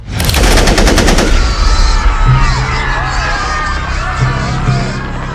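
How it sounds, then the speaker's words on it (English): Rapid automatic AK-47 assault rifle fire bursts out loudly at close range into a crowd, then fades into a confused din of voices and distant crackling. "the gunmen pulled AK-47 assault rifles from their bags and unleashed a devastating hail of bullets into the crowd"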